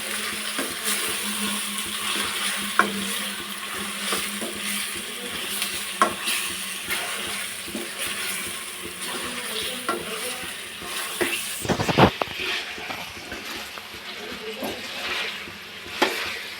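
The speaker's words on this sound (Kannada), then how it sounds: "ಚೆನ್ನಾಗಿ ಮಿಕ್ಸ್ ಮಾಡ್ಕೊಳ್ಳೋಣ" A mixture stirred and fried in oil, with a continuous close sizzle and repeated scraping strokes of a spoon against the pan, plus a few sharper clinks and one loud clatter partway through.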